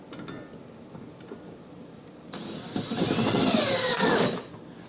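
A power drill drives the last star-drive screw into a shelf, a loud whirring burst of motor and ratcheting grind lasting about two seconds after quieter handling noise, close by.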